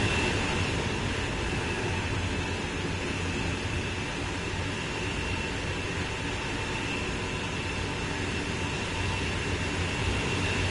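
A train races along the French LGV high-speed line in Train Sim World 2, giving a steady, loud rumbling drone with a constant hum and no pauses.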